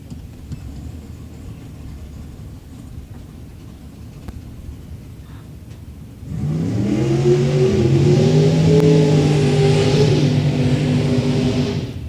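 Super Gasser drag car, a 1933 Dodge Roadster with a 434 Chevrolet engine, fires up after quiet crowd murmur and revs hard, a loud, harmonic, snarling roar that climbs and holds close by.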